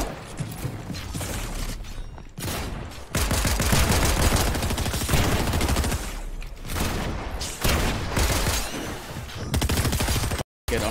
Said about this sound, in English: That's my pulse rifle.